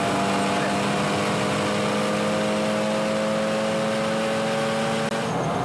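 A Porsche Cayman Cup race car engine drones loudly and continuously from inside the car at Spa-Francorchamps, holding a steady high-revving tone with a few shifts in pitch.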